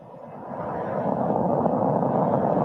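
SpaceX rocket carrying NASA's TRACERS mission lifting off, a broad steady roar that swells over the first second and holds loud and continuous, with no speech.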